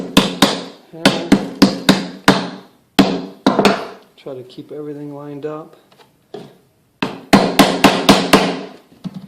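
Sharp hammer strikes on TK armor inner torso strapping land in quick bursts of five or six blows, close and loud, with someone speaking briefly between the rounds of hammering.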